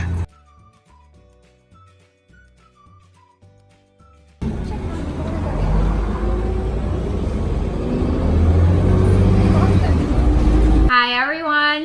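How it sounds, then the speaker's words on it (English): A city bus pulls in to a stop, its engine rumbling loudly and building over several seconds, preceded by music and followed by a brief tonal beep. "Our bus is arriving now."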